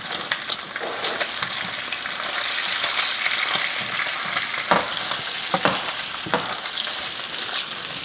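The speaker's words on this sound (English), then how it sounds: "this bacon is still cooking" Bacon fries in a pan with a steady, loud sizzle and crackle, broken by occasional pops and stirring sounds, and no talking.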